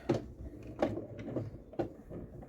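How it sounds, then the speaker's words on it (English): A toy van's small door is opened and handled, producing a series of sharp plastic clicks and clacks, about four distinct knocks in irregular rhythm, close and moderately loud. "Opening that door."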